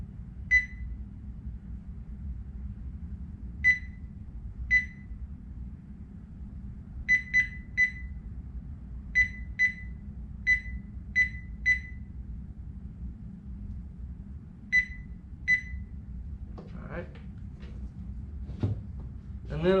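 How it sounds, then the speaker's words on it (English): A Thermoworks Signals meat probe thermometer alarm sounds as a string of short, sharp electronic beeps in irregular singles and pairs over a steady low background hum, with some clattering near the end. "you can see channel 1 is red on the app, so obviously that means the alarm's going off"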